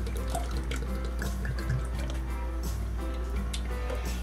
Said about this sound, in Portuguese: No liquidificador, você vai colocar os 4 ovos inteiros com o leite de coco.